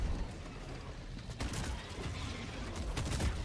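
Dense, continuous gunfire in the Helldivers 2 video game, a steady rattling barrage with sharper cracks punching through a busy battle din, no voices.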